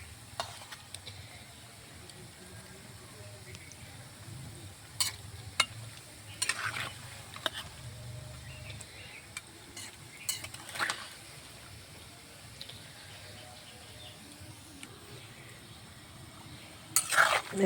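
Pumpkin fritters frying in oil in a pan on a clay stove, giving a faint, low sizzle with scattered clicks and scrapes of a utensil against the pan.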